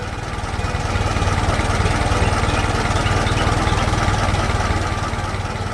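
A tiller engine on a farm runs steadily in an animated farm scene, a loud, constant, buzzing mechanical drone that holds without a break for several seconds.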